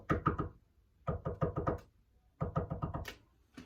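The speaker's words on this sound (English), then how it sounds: "One morning, without warning, at the door came several knocks," Three separate bursts of sharp knocking on a door, each a quick cluster of four or five close, firm raps with short silent pauses between, no voices.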